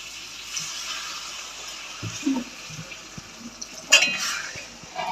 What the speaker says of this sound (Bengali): জাস্ট সামান্য একটুখানি জল দেবো, একটু ফুটলে নাড়াচাড়া করে নামিয়ে নেবো।